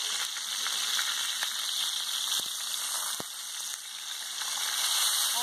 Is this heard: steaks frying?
yes